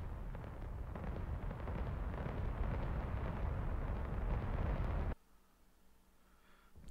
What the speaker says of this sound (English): Cluster bombs are a really great way to destroy a lot of things you didn't intend.